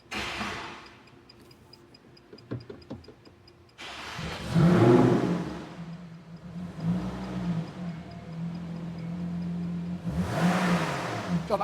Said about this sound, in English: it's going through the revs nicely